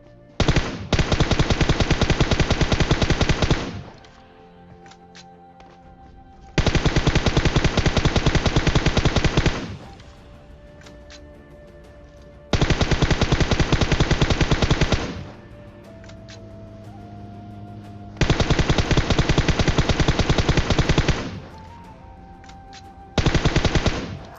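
Sustained automatic gunfire in PUBG Mobile, fired in four long, loud bursts that empty the ammo, each separated by a few seconds of quieter in-game sound.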